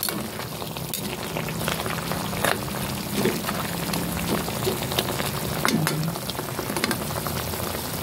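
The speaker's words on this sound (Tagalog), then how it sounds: "Kulo-kulo na ito." Pork and chicken adobo in soy sauce and vinegar bubbling at a steady boil in a pan, a continuous close sizzle and popping with occasional clinks of a utensil.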